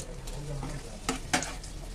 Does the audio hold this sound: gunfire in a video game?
no